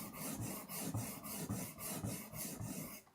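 A knife blade is rubbed flat on its back side across a sharpening stone, giving a soft, steady rasping scrape in even back-and-forth strokes, about two per second, close and quiet.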